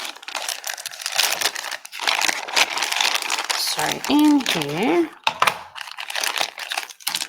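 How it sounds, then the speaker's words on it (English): A silky plastic bag from a Diamond Art Club diamond painting kit crinkles as it is handled, giving close, irregular rustling bursts under a person talking. "this is one of those, I'm going to say the silky sort of plastic bags"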